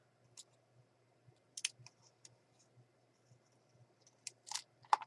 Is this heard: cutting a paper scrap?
yes